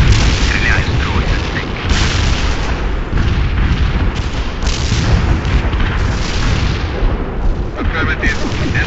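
Heavy artillery barrage in the World in Conflict war game, a continuous loud rumble of overlapping booming explosions with scattered bursts running the whole stretch, while voices talk over the din.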